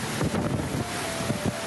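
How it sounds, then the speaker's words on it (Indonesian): Heavy rain driven by strong wind, with a dense, continuous roar broken by gusty low rumbles and buffeting throughout. "Di tengah hujan deras yang disertai angin kencang"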